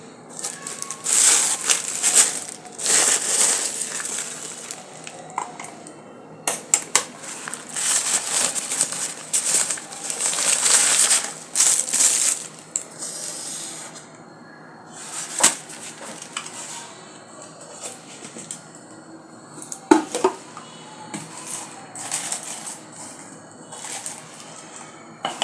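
Mixed dry spices being ground in an electric blender, a loud, close rattling and crunching grind that runs in bursts with brief pauses and no talk.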